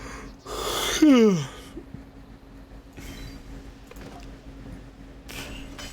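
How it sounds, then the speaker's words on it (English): One person gives a loud, drawn-out yawn that begins as a breathy inhale and rises into a falling, voiced groan, followed by quieter breathing and a faint steady hum in the background. "Oh, get ready, you're gonna yawn again."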